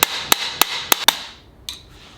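Sharp metallic hammer blows drive a part into a Subaru STI six-speed transmission case, five quick strikes in a row followed by a pause and one last hit, loud and close with brief ringing.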